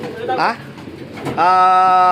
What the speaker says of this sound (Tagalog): Ayan po yung mga ibon natin dito.